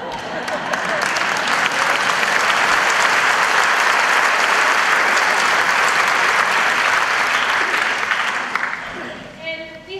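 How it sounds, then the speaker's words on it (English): Audience in a hall applauding a hospice operations leader, steady broad clapping sustained for about nine seconds before fading out into a few scattered claps. "Can we give him a round of applause?"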